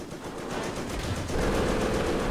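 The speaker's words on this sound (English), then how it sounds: "the German MG managed to pin my paratroopers down" German MG machine gun firing in the Company of Heroes strategy game, rapid continuous bursts of automatic fire with rattling reports, loud and dense, intensifying slightly midway.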